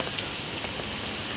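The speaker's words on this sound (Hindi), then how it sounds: "सुबह सुबह बारिश हो रही है" Morning rain falls steadily, a dense, even patter on surfaces that is close and continuous with no break.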